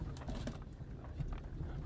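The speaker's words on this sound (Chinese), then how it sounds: "你看小鸟在笼子里一点也不开心" A small caged bird gives soft, faint cooing calls, close but quiet, against a low background with no talk.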